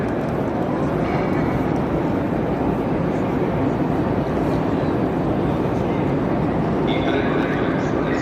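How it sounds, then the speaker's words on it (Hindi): Busy ambience on the train platforms of Milan Central railway station, a steady loud rumble of rail traffic and station hubbub throughout, with a brief higher whine near the end and voices mixed in. "ये जी मैं अंदर आ गया हूँ जहाँ से ट्रेनें चलती हैं"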